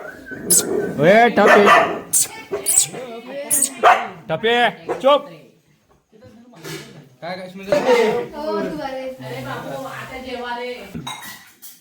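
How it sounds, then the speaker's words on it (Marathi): A dog barks in a village setting, with a few sharp barks mixed among loud, close voices of people talking and calling out. "एक कुत्री अटॅकिंग आहे"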